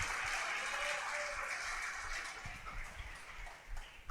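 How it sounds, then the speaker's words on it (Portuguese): Church congregation applauding and cheering during a service, a continuous wash of clapping and crowd noise that thins toward the end, heard from some distance. "Dê um aplauso e um grito de aleluia."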